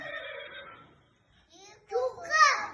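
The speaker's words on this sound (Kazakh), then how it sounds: "Жылқының дауысы екен, өте тамаша." A high, shrill whinny trails off, then after a pause children's voices and a brighter neigh-like call rise near the end.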